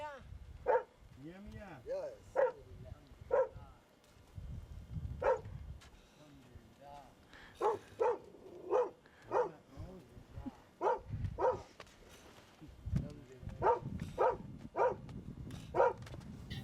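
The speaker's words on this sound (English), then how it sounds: "barks at the strangers" A guard dog barks in short repeated bursts at camel riders approaching a parked car in the Sudanese desert, fairly close, with people talking and greeting in between the barks.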